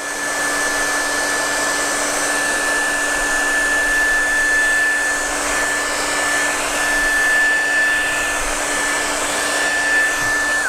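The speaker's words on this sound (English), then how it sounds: "Now, if you have a dryer, it will work better if you dry." A hair dryer blows steadily to dry paint during a painting lesson on a grove of trees, a loud continuous whirring hum with a faint high whine that holds unbroken throughout.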